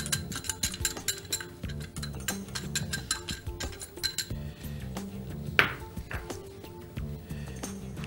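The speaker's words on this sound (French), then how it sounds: "On mélange avec la crème" Corn flour being mixed into liquid cream for an orange-blossom milk cream, heard as repeated clinks and scrapes of a utensil against a bowl or pot, steady and close, with one sharper ring near the end.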